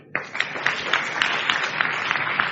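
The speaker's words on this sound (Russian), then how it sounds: "Дайте ему аплодисмент." Audience applause at a ministry training school session, a steady wash of clapping from many hands with a sharp onset, sustained loud and dense for the whole stretch, no talk over it.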